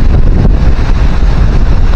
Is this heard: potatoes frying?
no